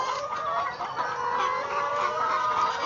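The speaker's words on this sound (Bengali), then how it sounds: "দেখুন সাইডে মুরগি।" Many chickens cluck steadily on a poultry farm where some birds sit in cages and others roam the floor. The clucking forms a dense, continuous chorus close by.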